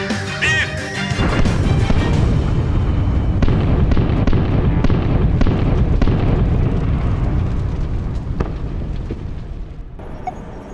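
A torpedo explosion hits its target as a TV drama sound effect, a loud, sustained booming roar with rumbling debris that slowly fades away.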